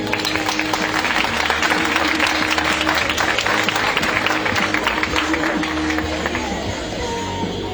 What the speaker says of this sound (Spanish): Un fuerte aplauso para Carolina García.